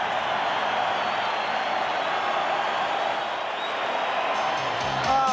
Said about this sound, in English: And listen to the crowd. They go up.